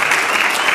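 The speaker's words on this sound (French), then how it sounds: "applaudissons pour nos parents." A short burst of applause for parents at a family gathering, steady and close with no voices over it.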